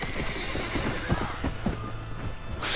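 Horse in Red Dead Redemption whinnies loudly while galloping, hooves clip-clopping rapidly underneath, close and clear with no talking.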